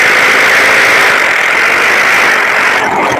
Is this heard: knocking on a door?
no